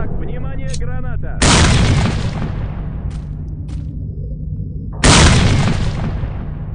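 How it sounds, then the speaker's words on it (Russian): Two loud, close grenade blasts in S.T.A.L.K.E.R. Call of Pripyat, each a sudden booming burst followed by a rumbling decay, set among game voices and background battle noise. "Внимание, граната."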